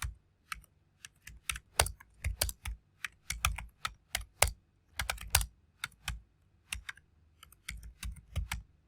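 A query typed on a computer keyboard, crisp close key clicks in quick irregular bursts with brief pauses, no voices.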